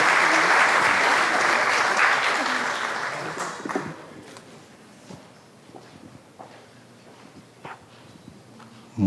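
Audience applause welcomes a panelist at a wood-themed panel event, loud and dense for about four seconds, then fading to scattered claps, footsteps and faint murmur.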